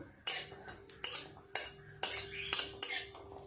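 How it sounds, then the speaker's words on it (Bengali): Cashews and raisins in ghee in a pan, stirred with a metal spoon that knocks and scrapes against the pan in a regular beat of sharp clinks, fairly quiet, with no talking. "কাজু বাদাম আর কিশমিশটা একটু নেড়ে চেড়ে ভেজে তুলে নেব।"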